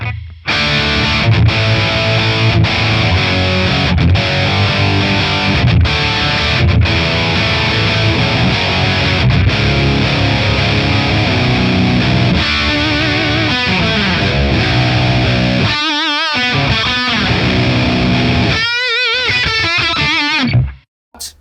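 High-gain distorted electric guitar played through a ToneX ONE amp model with a not-so-bright balance setting, loud chugging riffs and sustained chords with brief stops and pick-scraped passages near the end.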